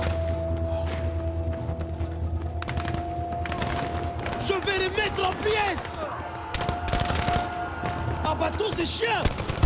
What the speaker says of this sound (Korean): 대포 대포 대포